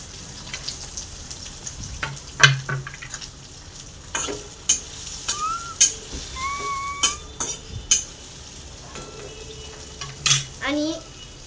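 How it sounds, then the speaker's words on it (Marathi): Onion dropped into hot oil in a pan, sizzling with clattering utensil scrapes and stirring knocks at irregular intervals, close by and fairly quiet between sharper clinks. "आता आपण कांदा टाकू"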